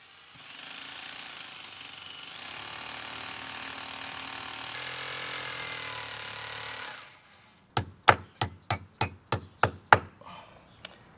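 A drill with a special masonry bit bores into concrete, grinding steadily for several seconds before stopping. After a pause comes a rapid series of about eight sharp, evenly spaced metallic clacks, close and loud.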